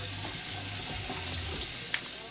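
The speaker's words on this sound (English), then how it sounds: "let me rinse this off with some cold water" Cold water runs steadily from a tap as a Leaf Shave Twig razor in fig finish is rinsed under it. The water makes a continuous hiss and splatter, with a small clink near the end.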